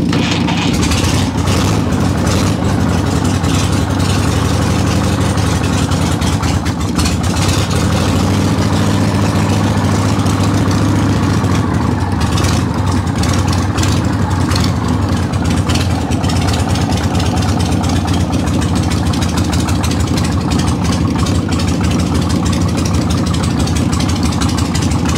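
A Harley-Davidson Evo engine idles steadily and continuously at close range after a cold winter start, its low, loping rumble holding for the whole stretch with slight variations in the beat and no talking.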